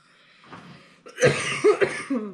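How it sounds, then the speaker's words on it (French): A short soft breath, then a few harsh coughs in quick succession, close and fairly loud. "je vais tousser"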